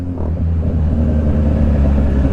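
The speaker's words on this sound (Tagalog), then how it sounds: "Traffic everywhere." Congested afternoon street traffic heard from a scooter, with a close, steady rumble of car engines and a brief rise as a vehicle moves off nearby.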